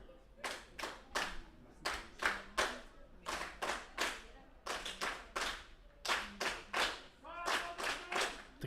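A crowd at a CSA Division 2 TKO Final cricket match at Buffalo Park claps in rhythmic bursts of sharp, repeated hand claps, grouped in short runs with brief pauses between.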